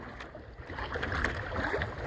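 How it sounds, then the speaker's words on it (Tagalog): Big sea waves wash around a small fishing boat at sea, a steady broadband rush of water and wind against the hull that swells and eases without a break. "Ang laki ng alon."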